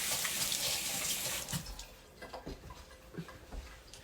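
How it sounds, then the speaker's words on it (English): Tap water runs steadily into a kitchen sink as hands are washed, a loud broadband rush for about a second and a half, then softer splashing and intermittent drips and clatters as the flow eases. "Wash my hands off."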